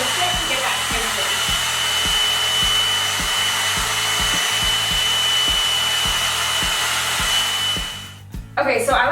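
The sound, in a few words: Revlon-style one step hair dryer volumizer on high setting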